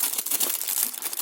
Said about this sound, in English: So it's in this plastic bit. Let's rip that off.